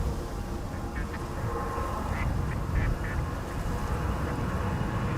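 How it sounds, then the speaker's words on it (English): A mother duck quacks a few short times near a waterside, the calls fairly faint against a steady loud background rumble. "Here's Mama. Now with one less duckling."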